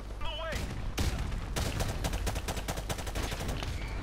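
Gunfire in Call of Duty: Modern Warfare Remastered, with dense rapid automatic bursts and single shots crackling loud and close, mixed with game effects and possible voices.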